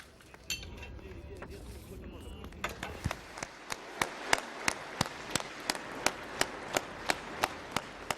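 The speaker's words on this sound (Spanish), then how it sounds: "Con este prolongado aplauso, el Parlamento de Ucrania ovacionaba este miércoles el discurso anual del presidente de su nación" Members of Ukraine's Parliament give a prolonged ovation after the president's annual address, a hall of applause that settles into slow rhythmic unison clapping, heard at moderate distance with broadcast background.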